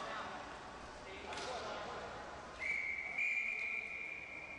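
A referee's whistle stops play at a powerhockey game, one sharp, sustained blast over arena noise, with a commentator talking through it.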